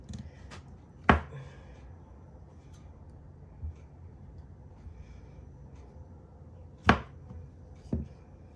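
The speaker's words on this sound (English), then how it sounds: "So right now you just slice it anyhow you want your slicing to be." A knife slices through soft goat cheese, giving four distinct sharp clacks of the blade hitting the board, irregularly spaced over a quiet background.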